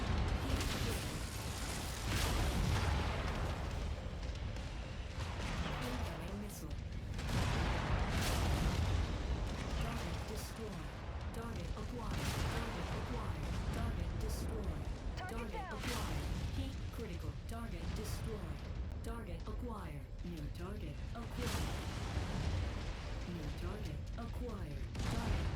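PPC weapon fire and explosions in MechWarrior 5 Mercenaries during a raid, a dense run of booming blasts and crackling discharges rolling on for nearly half a minute, loud and continuous with repeated heavy impacts.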